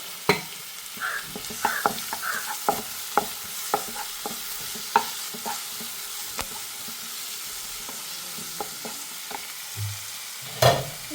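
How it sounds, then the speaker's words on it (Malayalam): Chopped tomatoes stirred into a pan of sizzling ginger, green chili, garlic and shallots for a chicken curry, with a steady frying hiss under repeated sharp scrapes and clacks of a spoon, and a louder clatter near the end. "ഇനി ഇതിലേക്ക് ഒരു ചെറിയ മൂന്ന് തക്കാളി കട്ട് ചെയ്ത് വെച്ചതാണ് ഇതിട്ട് കൊടുക്കാം"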